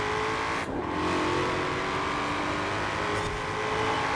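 Camaro Z28 muscle car in Forza Horizon 4 accelerating hard, its engine a steady, loud drone that climbs in pitch and is briefly interrupted by a gear change, with no voices.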